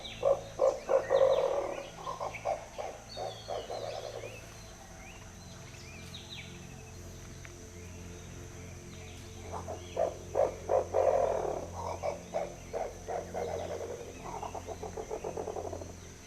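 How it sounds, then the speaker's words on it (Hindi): A dusky eagle owl calling from a tree in the Mogarkasa zone of Pench forest, a series of deep, rapid pulsing hoots in two bursts separated by a quiet pause, moderately near against steady background insect hum. "ये पक्षी है डस्की ईगल आउल, जो एक बड़े उल्लू की प्रजाति है।"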